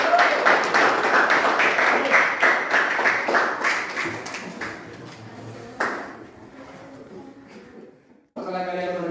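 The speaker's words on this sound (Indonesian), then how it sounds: "berikan aplaus dulu untuk kelompok 4" Classroom applause for a student group, a dense burst of clapping that runs for several seconds, thins out and fades, with a brief sharp tap and a voice near the end.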